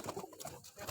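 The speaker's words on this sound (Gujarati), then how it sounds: "જોઈ શકો છો તમે કબૂતર" Pigeons cooing at close range where birds gather to feed, with soft repeated coos and rustling that continue without a break through the short moment.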